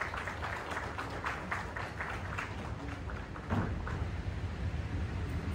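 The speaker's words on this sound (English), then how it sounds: "Please clap, everyone" An audience claps steadily and fairly loudly for Ashwina, a social worker and Team India team member, as she is called on stage. The applause is dense and continuous and swells slightly about halfway through.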